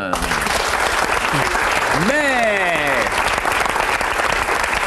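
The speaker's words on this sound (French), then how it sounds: "Je vous propose d'applaudir une dernière fois Sidonie qui nous quitte." A French TV studio audience breaks into dense, sustained applause that fills the whole stretch, while a voice speaks loudly over the clapping.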